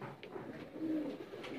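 Pigeons in a breeding setup give soft, close, rolling coos, a short burst of throaty calls over quiet background.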